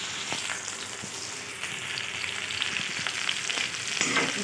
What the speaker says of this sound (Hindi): अच्छे से हम पकाते हिलाते रहेंगे, पकाते रहेंगे, हिलाते रहेंगे और पकाते रहेंगे इस तरह से